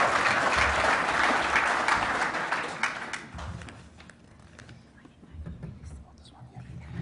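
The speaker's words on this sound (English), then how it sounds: "Big clap for them as well." Applause from the audience at a professional photography awards gala dinner, a dense broadband clapping that fills the first few seconds and then thins and fades to a quieter murmur of voices.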